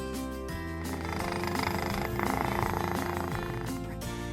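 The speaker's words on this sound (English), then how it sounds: "When your cat purrs, it's like they're singing a love song just for you." A cat purrs close to the microphone, a soft, steady rumbling hum that swells slightly in the middle and continues alone throughout.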